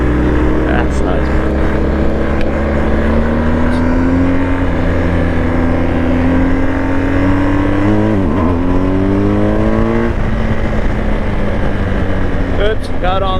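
A 2023 BMW R 1250 GS Adventure motorcycle engine drones loudly under riding wind, rising and falling in pitch, with a dip around a gear change as it bogs on the throttle; a rider talks over it.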